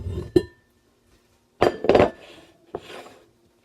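An old, warped cast iron pan rocks and spins on a flat surface, giving a few sharp metallic clinks and clattering knocks separated by short silences, close and fairly loud.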